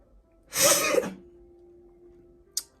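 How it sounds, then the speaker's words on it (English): A single loud, close sneeze bursts out from one person over a low background hum, followed a moment later by a brief faint sniff. "I need to sneeze"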